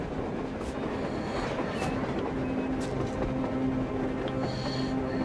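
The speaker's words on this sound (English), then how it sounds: "A train! A damn train on the surface!" A train rolls past on the surface in the post-apocalyptic game Metro Exodus, a steady rumbling with rhythmic clickety-clack of wheels and occasional faint squeals, continuous and fairly close throughout, with no talk.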